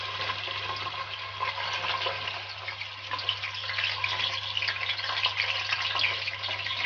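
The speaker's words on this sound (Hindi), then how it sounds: "अब इसी तेल में चिकन डाल दें" Chicken added to hot oil in the pan left from frying onions for a chicken korma, giving a steady, loud, close hiss of sizzling that holds without break, no talking.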